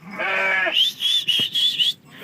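Lambs and sheep bleat in a pen, a close, loud wavering bleat followed by several shorter high-pitched calls in quick succession, with no talking.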